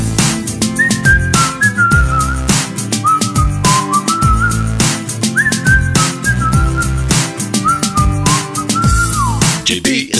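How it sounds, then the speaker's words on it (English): A person whistles a bouncy melody over loud, busy music with a steady beat in a parody, the whistled phrases repeating in short rising and falling runs. "Gonna learn to whistle, Johnny, whistle, Johnny."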